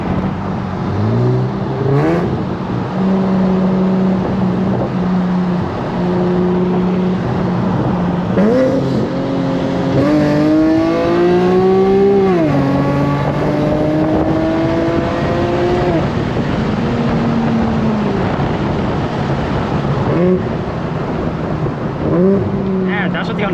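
A tuned Infiniti Q50 accelerates hard during a street race, its engine note climbing steadily in pitch through the gears with a loud, continuous roar close by.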